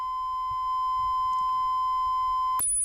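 A steady 1,000 hertz test tone from an audio tube tester's oscillator sounds alone and unbroken, then cuts abruptly near the end with a click as it jumps to a higher pitch.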